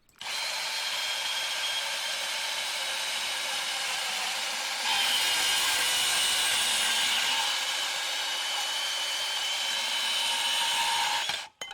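Milwaukee M18 FUEL compact cordless bandsaw cutting, a steady high-pitched whine and blade rasp running continuously for about eleven seconds, briefly louder midway, close and without talk.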